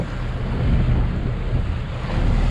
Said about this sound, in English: these waves don't even break against these rocks because the water's so deep next to it, and there's quite a big swell running